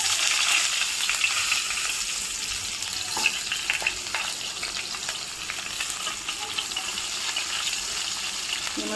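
Onions frying in a kadai with a dense, even hiss and crackle that holds steady and close throughout, with occasional small pops and no voices.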